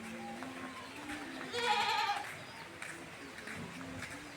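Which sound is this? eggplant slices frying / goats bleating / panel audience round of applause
goats bleating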